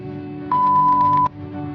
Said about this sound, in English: If beep sound is not produced, it means fuse is not okay.